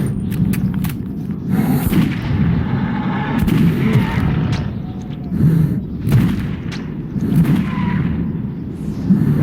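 Gunfire in the video game Metro 2033, a dense run of repeated shots and heavy booming thuds that continues loudly throughout, with no pauses.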